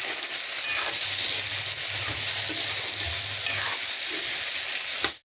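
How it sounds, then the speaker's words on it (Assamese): Potatoes fry with salt and turmeric for an Assamese dish, giving a loud, continuous sizzle close by with scraping stirs running underneath, cutting off abruptly at the end. "এয়া এতিয়া মোৰ আলুখিনি ভাজি হৈ গ'ল"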